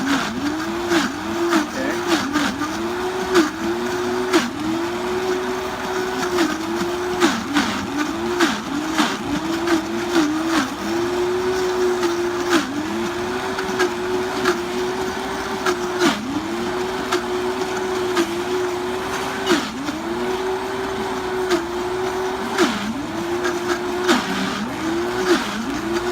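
A Vitamix blender pulverizes food with a loud, sustained motor whine that rises and dips in repeated surging cycles as the contents churn, running alone without any voices.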